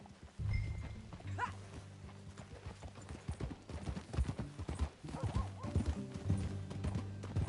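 Horse hooves clip-clopping as a rider sets off on horseback in Red Dead Redemption 2, an uneven run of close hoof beats over a low rumble, with a brief whinny early on and a dog barking in places.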